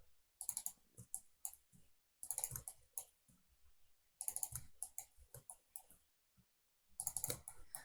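Computer mouse clicks in Maya during UV unwrapping of a model's hands, heard as short, quick bursts of crisp, close clicks separated by brief silences, with no talking.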